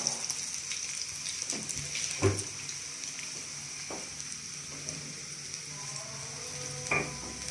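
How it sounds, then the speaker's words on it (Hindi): Vegetable pakoras fry in hot oil over a low flame, giving a steady, gentle sizzle with a few soft clinks and stirs from a utensil. "हल्की आंच पे पकाएंगे तो ज़्यादा मज़ेदार और खस्ता बनेगी।"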